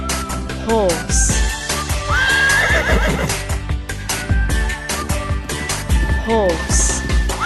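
A horse whinnies twice amid a busy mix of clip-clopping hooves, music and children's-song voices, the neigh loud and close with a wavering, rising-falling pitch.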